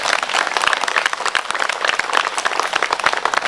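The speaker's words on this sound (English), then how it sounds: "Let's give them applause." A crowd applauds steadily at a Civil War monument re-dedication ceremony, many hands clapping in a dense, continuous patter.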